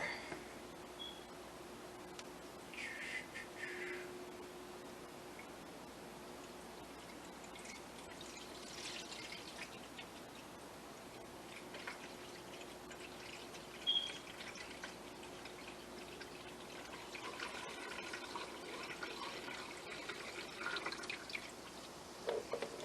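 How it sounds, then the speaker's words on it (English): Water poured into the fill port of an AeroGarden Bounty Basic indoor garden, a faint steady trickle and drip into the reservoir that continues quietly at close range for over twenty seconds without speech. "I'm going to go ahead and add some water."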